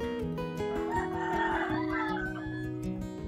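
A rooster and hens near a chicken coop at a rural Philippine homestead, with a crow and scattered clucking rising over steady background noise at close range.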